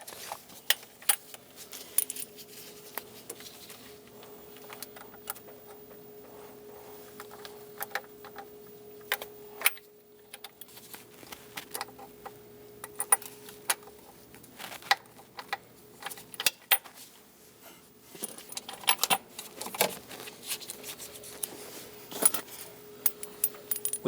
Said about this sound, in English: We're going to install all of the bolts for the intake manifold.